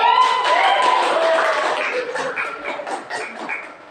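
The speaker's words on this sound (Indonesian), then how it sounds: "Tepuk tangan dulu." Students in a classroom group guidance session clap their hands together in a dense burst of applause that thins into scattered claps and fades. A few voices can be heard among the claps.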